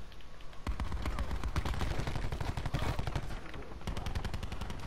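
A Titan light machine gun with the Operator mod fires in Black Ops 4, a long rapid stream of sharp automatic shots in a steady rhythm, loud and close.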